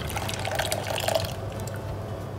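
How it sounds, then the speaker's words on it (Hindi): Half a cup of warm water poured into whisked chocolate cake batter in a home kitchen, a short soft trickling and splashing that fades out after about a second and a half. "अब मैं इसमें 1/2 कप गर्म पानी ऐड करूँगी"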